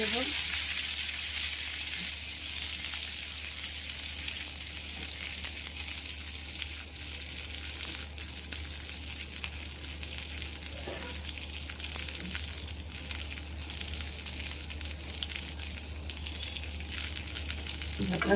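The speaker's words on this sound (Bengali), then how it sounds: "কিশমিশ দিয়ে দিব দিয়ে একটু ভেজে নেব হালকা করে একটু ভেজে" Raisins fry in a pan for chickpea halwa, giving a steady, even sizzle with faint stirring scrapes throughout and no voices.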